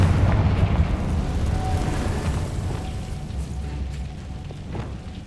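A Confringo fire spell bursts in Hogwarts Legacy, a heavy rumbling explosion that starts loud and slowly decays into a low roar.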